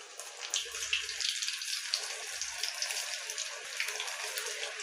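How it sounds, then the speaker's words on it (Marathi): Methi bhaji, fenugreek fritters, frying in hot oil give a dense, steady crackling sizzle, close and continuous, with a couple of brief low hums underneath. "आता तेल तापलेलं आहे तर एका वाटीत थोडंसं पाणी घ्यायचं त्यात थोडासा हात बुडवायचा आणि अशी भजी सोडून घ्यायची"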